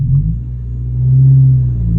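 Low, steady engine rumble from a slammed 2020 Honda Civic Sport with a manual gearbox while driving, the drone swelling slightly midway and holding a constant hum throughout.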